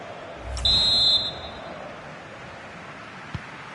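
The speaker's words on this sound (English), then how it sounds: "And the whistle is sounded for half-time." A single shrill referee whistle blast for half-time in the FC26 football video game, steady and held for about half a second over low crowd and ambient noise.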